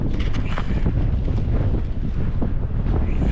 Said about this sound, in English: it's just so windy you can't do anything about it.